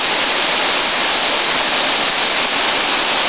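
A waterfall pours in a constant, loud hiss of rushing water, heard up close and uninterrupted, with no talking over it.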